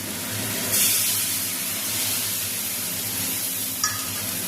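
Ground spices dissolved in water hiss and sizzle steadily as they are sautéed in a hot pan, a close, continuous frying sound with a brief louder burst near the start.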